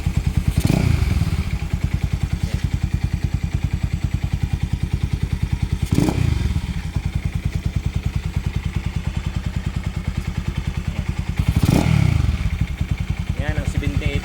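A motorcycle fitted with a 78mm bore kit idles steadily in the morning with a fast, even thumping beat, close and loud, with a louder revving burst roughly every six seconds.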